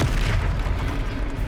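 An Expelliarmus spell cast in the Hogwarts Legacy video game lands as a short, loud, booming magical blast.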